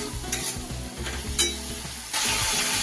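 Ginger paste and tomato are stirred in a hot pan for a vegetarian papaya kofta curry, a steady sizzle with repeated scraping strokes that gets louder and busier near the end.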